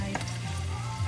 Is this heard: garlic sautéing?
yes